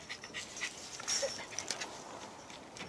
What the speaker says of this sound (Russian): Это же собака, которую можно вообще потискать.